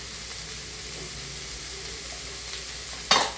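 Masala sweet corn sautéed in a pan makes a continuous close sizzle, and a short, sharp scrape of a spoon against the pan comes right at the end.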